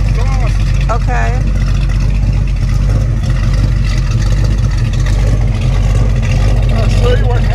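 Loud, steady rumble of a 1973 Mach 1's idling engine at the exhaust tailpipe, continuous and close, with a person speaking over it.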